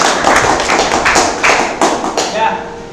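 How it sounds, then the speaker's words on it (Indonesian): A small class claps for a group in a physics lesson, giving a few seconds of scattered, sharp hand claps up close, with a voice briefly present. "tepuk tangan untuk kelompok 2"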